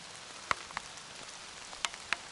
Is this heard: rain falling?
yes